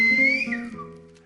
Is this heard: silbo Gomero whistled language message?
yes